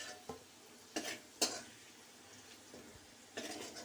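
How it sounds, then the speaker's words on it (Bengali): Maggi noodles are stirred in a pan: a few quiet, scattered scrapes and clinks of a utensil against the metal over a faint background, close but soft, with no talk. "অল্প নাড়াচাড়া করে।"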